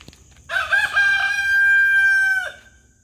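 A rooster crows once, loud and close, in a long drawn-out call lasting about two seconds, with faint clucking of chickens around it and no talk.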